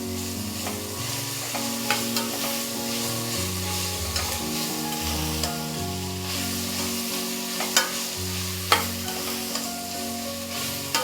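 Ginger garlic paste for millet biryani frying in a pan, a close, steady sizzle broken by sharp scrapes and knocks of a spoon stirring, with a soft melodic background underneath.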